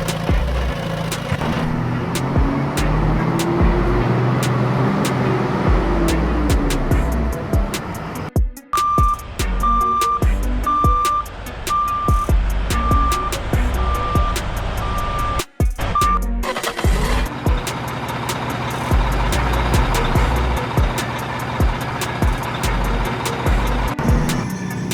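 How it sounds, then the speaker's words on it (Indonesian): A dump truck used for hauling at a mining site idles and rumbles with heavy engine noise, while a steady series of reversing beeps sounds through the middle stretch, all fairly loud and close. "dump truck adalah mobil yang mempunyai dam yang besar di belakangnya"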